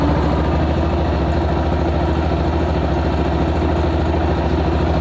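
A Yamaha XT 660 motorcycle engine with a crankshaft bearing knock runs steadily close up, a loud continuous rumble with a dense rhythmic pulsing throughout and no talking.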